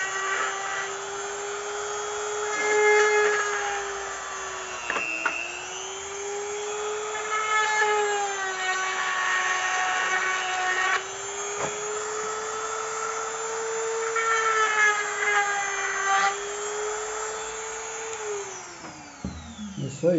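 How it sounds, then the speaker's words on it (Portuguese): A power drill bores into a wall near its edge, whining steadily at close range for most of the stretch, its pitch dipping as the bit bites, then winding down at the end; a voice speaks faintly underneath. "Vamos furar aqui"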